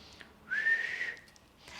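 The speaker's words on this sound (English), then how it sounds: "So if I whistle," A person whistles one clear, rising and then held tone lasting about half a second, fairly quiet and close, with a faint breathy sound before and after.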